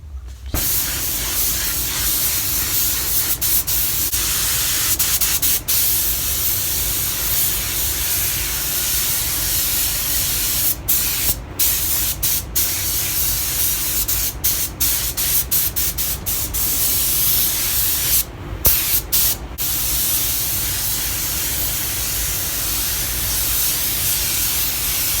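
Silver paint is sprayed from a spray gun onto a car's rear bumper during a smart repair, a steady close hiss running almost unbroken with brief pauses near the middle and end.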